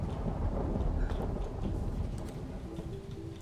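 A thunderstorm with steady heavy rain from the colony-building game Planetbase, with rumbling thunder swelling through the first half over a dense rain hiss and a faint tonal hum near the end.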